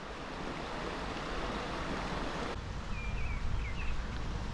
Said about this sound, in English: You can see there's quite a bit of water coming down the bywash.